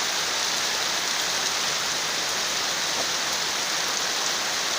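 Rain pours steadily outdoors during an evening storm, a dense, even hiss of drops on surfaces that stays loud and constant throughout, with no voices.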